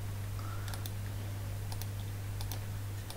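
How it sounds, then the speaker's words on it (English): Scattered keystrokes and clicks on a computer keyboard during a server software installation, several quick taps in small bursts over a steady low electrical hum, no speech. "We have to type it"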